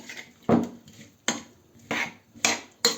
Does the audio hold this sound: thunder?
no